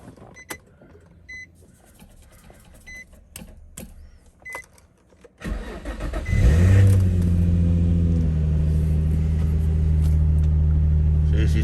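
A Nissan 350Z starts with a quick crank, then settles into a loud, deep, steady idle, after a few seconds of small clicks and movement inside the car.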